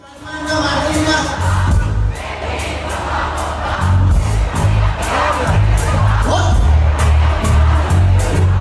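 A large concert crowd at a Wireless Festival performance roars and cheers without pause, loud and sustained, with shouts and whoops rising over a thumping low music bed.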